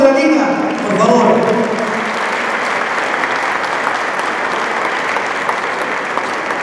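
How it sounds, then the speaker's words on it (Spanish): Applause from the guests at a neighbourhood leaders' dinner. A voice speaks briefly at the start, then dense, steady clapping from a sizeable crowd carries on loudly to the end. "Un aplauso a la ciudadanía, por favor"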